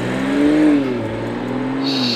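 A Toyota A90 Supra engine revs as the car pulls away, a loud harmonic drone rising and easing back over about two seconds, heard up close and without talk.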